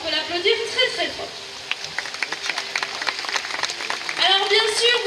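Zoo audience clapping after a sea lion show, a scattered, moderately loud round of applause in the middle with a presenter talking before and after it.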